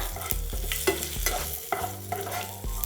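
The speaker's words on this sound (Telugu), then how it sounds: "సో ఆల్మోస్ట్ మనకి పల్లీలు కూడా ఫ్రై వచ్చేసింది. సో చిట్టపటలాడుతుంది" Peanuts frying in a pan, giving a close, continuous sizzle and light crackle that is broken by repeated scraping strokes of a stirring spoon, with no talking.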